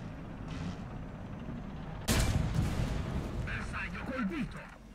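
Tank cannon fire in War Thunder booms out in one sharp, loud blast midway through, following a quieter earlier thump over steady engine rumble, while a voice talks briefly toward the end.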